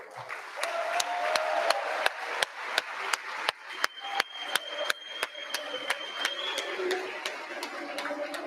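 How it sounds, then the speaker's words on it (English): Audience applause at the Sandhurst 2023 awards ceremony for competitors and cadre, moderately loud, with sharp rhythmic claps standing out over the steady clapping and faint voices. "let's give all our competitors and cadre another round of applause for a job well done"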